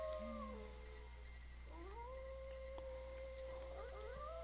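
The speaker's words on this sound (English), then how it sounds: "a wolf darts out of the dark forest and dashes towards you" A wolf howls in the King's Quest 2 video game, with long rising and falling tonal wails over a steady low game hum and no talking.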